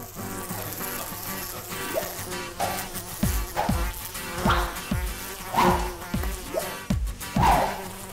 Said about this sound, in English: Yes, this is a room full of flies.